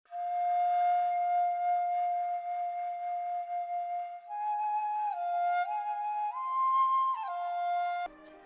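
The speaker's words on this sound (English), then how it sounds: "the third sound is from this flute phrase library in Contact" A sampled flute phrase from a Kontakt library holds one long, steady note, then moves through several stepped pitch changes in a breathy, tonal line. It ends in a short burst of noise, with no voices.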